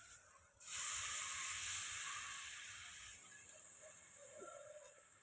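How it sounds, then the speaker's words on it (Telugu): Tamarind juice poured into a hot pan while cooking an egg, tomato and onion curry bursts into a loud close hiss that starts suddenly and fades slowly over several seconds. "ఇప్పుడైతే చింతపండు పులుసు వేసేసుకుందామండి"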